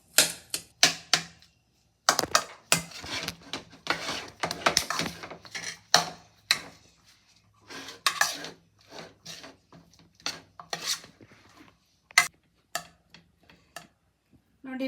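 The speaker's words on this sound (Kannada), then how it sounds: "ಇವಾಗ ಚೆನ್ನಾಗಿ ಮಿಕ್ಸ್ ಮಾಡ್ಕೊಳ್ಳೋಣ." A spatula taps and scrapes against a pan while steamed rice and paneer fried rice are stirred together, giving dense, close, irregular clicks and knocks in bursts with brief pauses.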